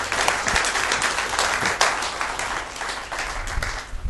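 Church congregation applauding the Lord during a morning service, a dense, close burst of many hands clapping continuously for several seconds.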